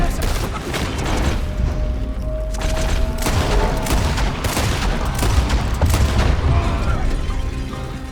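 Sustained shootout gunfire from Red Dead Redemption 2, with dense overlapping shots and booms running steadily throughout, loud and continuous, with a brief tonal whine partway through.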